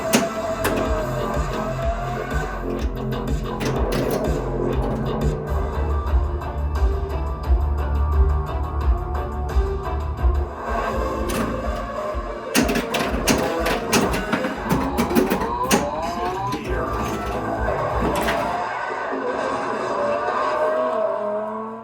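A Getaway High Speed 2 pinball machine with a Pinsound Neo sound board and new speakers plays continuously, with loud racing car engine roars, tire screeches, mechanical clatter and music mixed together without pause.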